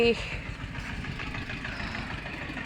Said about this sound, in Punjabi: ਇਧਰ ਸੀਲਰ ਮਾਰਦੇ ਫਿਰਦੇ ਆ ਜੀ ਟਰੈਕਟਰ ਵਾਲੇ